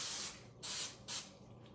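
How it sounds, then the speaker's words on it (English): Pam Original cooking spray hisses from an aerosol can into a pan in three short bursts, close and loud with brief pauses between them. "for my cooking spray, I'm going to be using the Pam Original"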